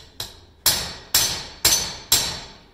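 Hammer blows on a horseshoe heel against an anvil while spooning the heels: one light tap, then four loud, ringing metallic strikes spaced about half a second apart, close and alone.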